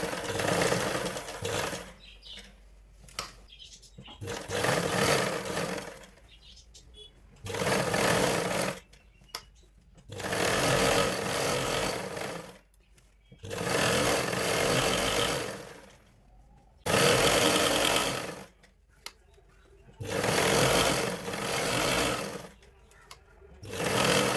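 Sewing machine stitching a blouse lining all the way around, starting from the shoulder, running in repeated bursts of several seconds with short stops between them, close and steady, with faint background sound.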